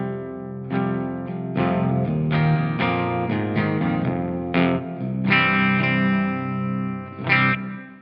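Distorted electric guitar played through an Orange Rocker 15 amp capture with a Greenback speaker impulse response miked by a ribbon 121, heard unprocessed: loud, sustained chords and single notes ringing out, with no talking.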